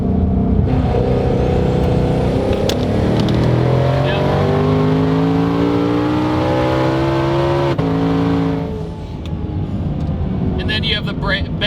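A 1200 HP twin-turbo Shelby GT500 accelerates hard in third gear, engine note rising loud and close before an abrupt shift-like break, then settling into lower rumble with brief later rattles.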